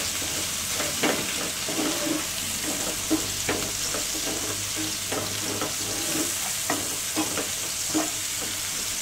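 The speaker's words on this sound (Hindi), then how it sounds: "मीडियम फ्लेम पे प्याज को गोल्डन ब्राउन होने तक फ्राई कर लेंगे।" Onions frying in oil on a medium flame, giving a steady close sizzle with intermittent stirring scrapes and clicks of a spatula throughout.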